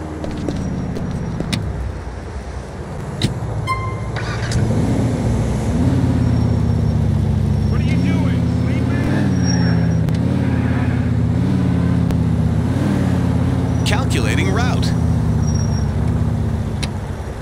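A car drives in a video game, its engine droning loudly and continuously with repeated rises and falls in pitch as it revs and shifts, and no voices.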